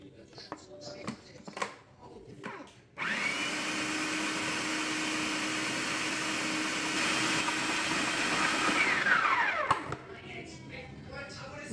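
A mixer grinder whirs steadily for about seven seconds, blending mint chutney, starting abruptly and cutting off with a falling whine, with quieter kitchen sounds before and after.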